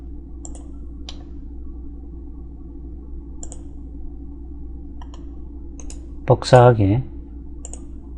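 Sparse, light mouse clicks on a desk while modelling in SolidCAD 3D software, single taps spaced a second or so apart, with a brief spoken word partway through.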